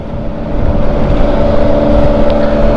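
A Honda Scoopy scooter, a Metropolitan model, accelerates hard in a drag race, its engine rising to a steady, loud drone with wind rush running throughout.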